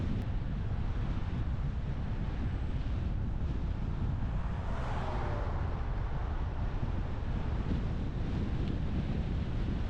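Strong, steady wind buffets the microphone while riding a bicycle into a headwind along a valley road, a dense low roar that stays loud and unbroken throughout.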